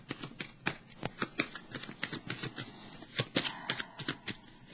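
Tarot cards being shuffled and drawn: a run of crisp, rhythmic card riffles and slaps, close and fairly loud, with no talking.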